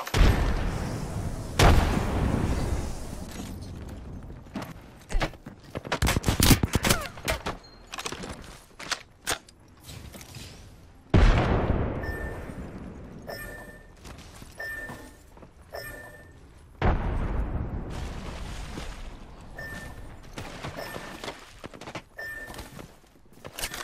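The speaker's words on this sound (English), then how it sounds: "The enemies are shooting at me. Open fire on them. I have been down. Grenade, watch out." Gunfire and grenade explosions in a shooter video game: several sharp blasts with decaying booms, scattered bursts of shots, and short repeated electronic beeps between them.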